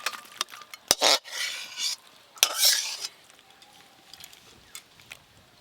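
Radish greens and prawn curry stirred and scraped from a pan, sharp metallic clanks of a spoon against metal, two bursts of scraping and rustling, then faint occasional taps, no voices.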